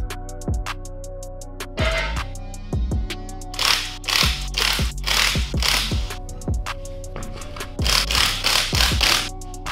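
Ratchet wrenches click and rattle in rapid bursts while working on a car, removing the wheels and brake calipers ahead of a Brembo caliper setup, close and loud, with pauses between runs of ratcheting.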